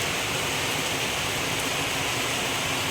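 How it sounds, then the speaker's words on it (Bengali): Steady, dense rain falling outdoors, a close and continuous broadband hiss that holds even throughout with no other sounds. "কি সুন্দর বৃষ্টি হচ্ছে দেখো"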